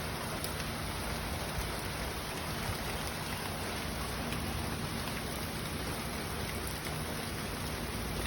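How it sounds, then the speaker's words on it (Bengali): Steady rain pours down continuously, a dense even hiss of drops on surfaces with no pauses and no voices. "ভাবছিলাম বৃষ্টি বন্ধ হয়ে গেছে আবার শুরু হয়ে গেছে"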